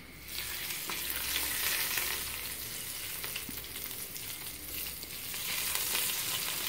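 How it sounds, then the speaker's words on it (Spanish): Butter sizzles in a frying pan while Turkish-style eggs with yogurt cook. A steady, close, crackling hiss runs throughout with no talking. "Ahora le vamos a echar la mantequilla, miren"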